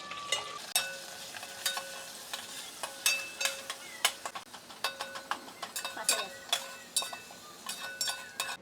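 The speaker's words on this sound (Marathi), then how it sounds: "सुकं खोबरं आणि लसणाचं जे वाटण केलं आहे ना ते आपण फोडणीला टाकू" A paste of dry coconut and garlic fries in a tempering of oil and curry leaves, with a soft sizzle under repeated close metallic clinks of a spoon stirring the pan, heard alone without talk.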